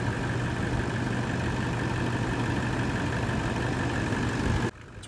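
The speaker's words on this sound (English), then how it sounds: "Now we fire up our vehicle. This one, push button start." Toyota Land Cruiser 200 series engine idling just after a push-button start, a steady, close hum with a constant tonal drone that cuts off abruptly near the end.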